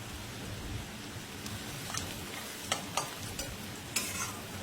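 Onion fries in a pan with salt and turmeric while being stirred, a soft steady sizzle with a few sharp scraping knocks of the stirring spoon.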